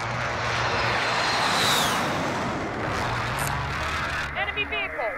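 Enemy aircraft engine droning steadily in a Call of Duty Warzone match, a loud continuous roar that swells briefly and then fades, with players talking over it.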